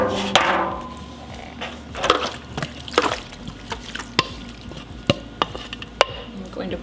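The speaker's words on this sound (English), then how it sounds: "I'm going to pour it in." A creamy chicken casserole mixture is poured and scraped from one pan into another, giving soft wet slops and clinks of a utensil against the dish at close range, with a few sharper taps toward the end.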